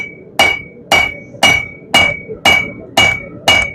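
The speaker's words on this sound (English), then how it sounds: "now we're going to use the cross peen and stretch the metal vertically" A cross peen hammer strikes hot steel being forged into an herb chopper blade, seven loud, evenly spaced ringing blows close by, each with a sharp metallic clang and short decay.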